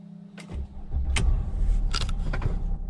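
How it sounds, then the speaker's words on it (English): A V6 car engine starts after a few clicks and settles into a low, quiet, steady idle. "let's quickly start the car."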